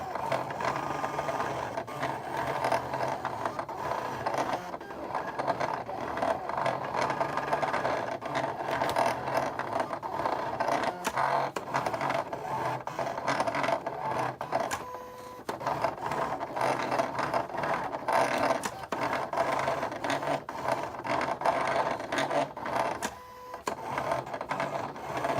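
A Silhouette Portrait cutting machine works through a pattern, a steady close mechanical whirring with ticking, ratcheting motor movements that continue without pause and with no talk.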